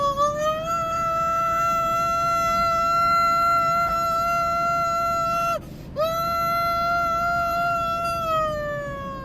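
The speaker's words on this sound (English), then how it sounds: "That's our new tornado siren." A new tornado siren sounds loud and steady, a sustained wailing tone with rich harmonics that drops out briefly near the middle, then resumes at full strength.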